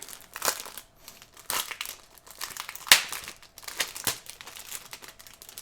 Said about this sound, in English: We'll take a look at the map here. If I can figure out how to open it.